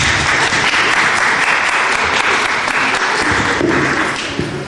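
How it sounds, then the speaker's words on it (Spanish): Audience in a hall applauding a guest speaker at a human rights talk, a loud continuous wash of clapping that stays steady and fades slightly at the end. "para quien pida un aplauso, por favor"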